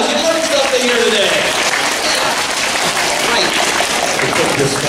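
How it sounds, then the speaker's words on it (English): Applause from a school assembly audience, dense and loud, filling the space continuously with some children's voices and shouts mixed in. "Give yourselves a big round of applause"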